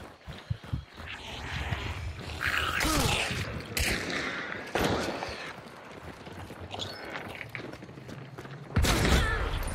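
Video game shotgun fight, with a few sharp, loud gunshot blasts bursting out between quieter stretches, including a heavy final blast near the end; no one talks over it.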